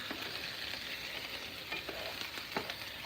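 Food sizzling in a regular frying pan, a continuous close crackle with scattered pops and stirring scrapes, steady throughout.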